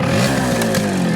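A two-stroke Kawasaki Bajaj KB100 motorcycle engine revs close by, its pitch rising and falling with a couple of quick throttle blips.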